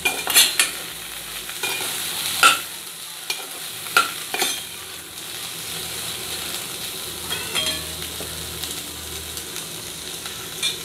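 Gram dal chutney with fresh coriander being stirred in a hot pan: scraping spoon strokes and soft sizzling, with a few sharper knocks of the utensil against the pan, close up and with no talking.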